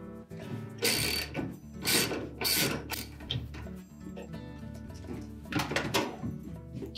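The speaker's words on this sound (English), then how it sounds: "So using an extension with a ratchet." Ratchet wrench on an extension loosening the agitator bolt of a Whirlpool top-load washer, clicking in several bursts of fast pawl ticks with metallic clanks between them, close and fairly quiet with no talk.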